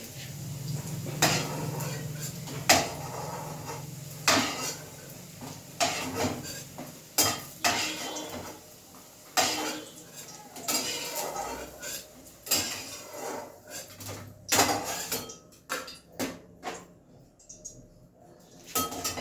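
Fried bitter gourd is lifted from a pan onto a plate, with repeated sharp clinks and scrapes of metal utensils in an irregular rhythm, close by and moderately loud, with faint sizzling underneath.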